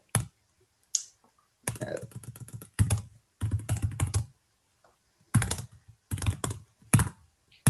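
Bursts of rapid keystrokes on a computer keyboard, close and clear, with short pauses between typed runs during a coding demo with Angular Schematics.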